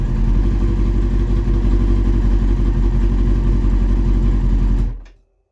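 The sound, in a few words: 2001 Kawasaki ZX6R motorcycle engine running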